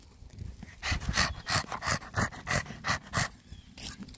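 Small dogs out on a leash walk, panting and snorting in quick bursts roughly twice a second, close to the mic, with soft rustling and footsteps underneath.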